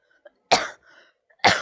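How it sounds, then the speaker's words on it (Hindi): Two sharp, close coughs about a second apart, with a soft breathy throat sound between them. "खांसी बहुत आने लगी"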